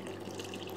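Water runs steadily from the outlet of an air source heat pump set up for an inflatable spa, a soft continuous trickle with a faint low mechanical hum beneath it.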